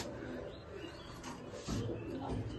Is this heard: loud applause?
no